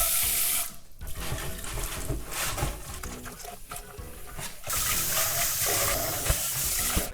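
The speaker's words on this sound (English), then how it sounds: "Then I'm gonna wash away all this scum." Tap water runs steadily and splashes into a cooking pot as scum is rinsed off it. The flow shifts and sputters, then settles into a strong continuous gush.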